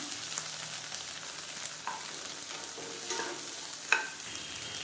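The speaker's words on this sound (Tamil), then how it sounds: "மீடியம் சைஸாக 2 தக்காளி ரொம்ப பொடியாக கட் பண்ண வேணாம், பாதியாக கட் பண்ணிவிட்டு சேர்த்துக்கலாம். இதையும் நல்லா வதக்கி விட்டுக்கலாம்." Halved tomatoes and onions sauté in a pan for millet idli chutney, giving a soft, steady sizzle with occasional stirring scrapes and one sharp utensil clink near the end, fairly quiet with no voices.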